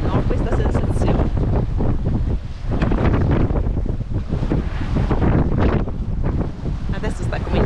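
Strong gusting wind buffets the microphone in heavy surges aboard a sailboat at sea as rain begins, rising and dipping, loud and close throughout.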